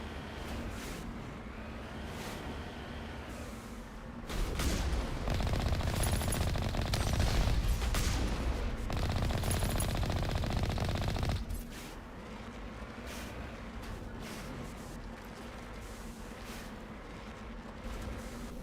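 Enemy gunfire rattles in Mass Effect 1: a long burst of rapid automatic shots, loud and dense for several seconds, comes after a quieter stretch, with sporadic shots and engine-like rumble around it.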